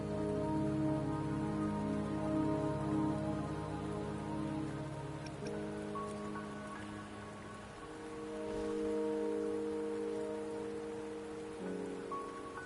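Steady rain falls in the Wuthering Waves game world, a continuous hiss of drops on surfaces beneath soft layered musical tones, with no voices.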